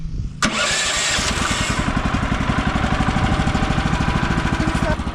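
Small sawmill engine cranks and catches after a sharp start, then settles into a loud, steady, close chugging idle with an even rapid pulse throughout.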